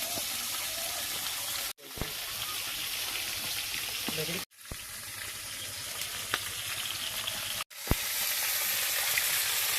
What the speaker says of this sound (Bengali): এবার এই পিঠটাও ভেজে নেবো